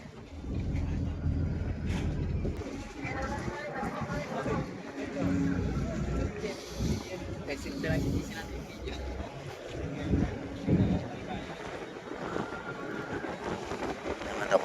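Strong gusting wind at the Port of Surigao buffets the microphone in heavy rumbling bursts, with a person talking over it.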